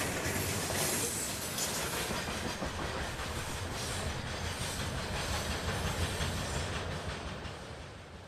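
Freight train rolling past near Plant City, Florida in the evening, a continuous loud rumble with rail clatter and hiss holding steady throughout, easing slightly at the end.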